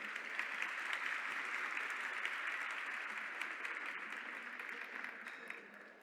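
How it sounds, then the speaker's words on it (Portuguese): An audience at an entrepreneurship fair talk claps for several seconds, dense and even, then slowly thins and fades toward the end. "Palmas para ela."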